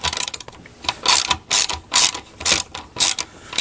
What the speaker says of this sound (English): Now we're going to go ahead and tighten up our bolts here.